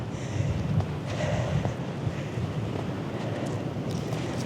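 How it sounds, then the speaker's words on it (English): Heavy wind gusts through newly planted young trees outdoors in snow, a steady broadband roar with buffeting rumble close to the microphone throughout. "And that wind is very heavy on them"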